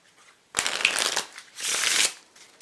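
A Bicycle Tinker deck with air cushion finish is shuffled in two quick riffle bursts, each a dense papery flutter lasting about half a second, close and crisp with a pause between.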